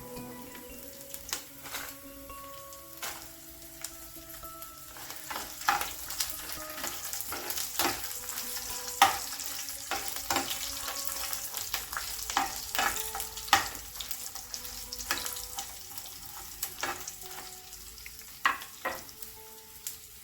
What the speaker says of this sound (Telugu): వెల్లుల్లిపాయలు కాస్త ఫ్రై అయిన తర్వాత